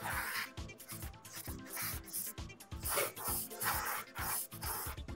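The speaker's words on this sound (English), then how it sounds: "I'm priming the whole model." An airbrush or spray can primes a model aircraft in short hissing bursts, close and fairly loud, the sprays starting and stopping in an uneven rhythm with faint handling sounds between.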